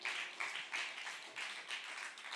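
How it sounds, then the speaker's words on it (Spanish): A church congregation at a discipleship class applauds together, a fairly faint run of rhythmic clapping in repeated bursts, no voices over it. "Dale un aplauso al Señor"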